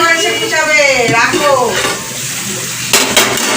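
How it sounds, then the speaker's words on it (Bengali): Spice paste frying in a pan while being stirred, close and loud, with sizzling and scraping strokes of a spoon against the pan that ease off midway, then rise again. "মশলাটা কষছি"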